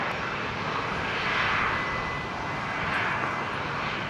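A Velocity airliner just arrived from Sydney rolls along runway 19 left at Brisbane International Airport, a steady, loud broadband engine roar that swells twice as the jet passes, with no talk over it.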